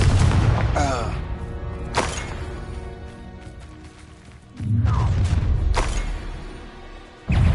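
In the Hogwarts Legacy video game, a Confringo fire spell goes off with two loud, booming blasts spaced a few seconds apart, and in-game character voices are heard between them.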